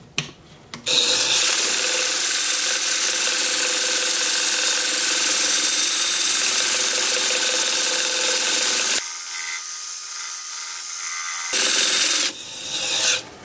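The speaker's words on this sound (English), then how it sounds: "Turn the lathe on at about 350 RPM." A wood lathe spins at about 350 RPM while a chestnut weed pot is turned and sanded, giving a steady, loud motor hum with rubbing rasp. The sound drops lower midway, then picks up again near the end.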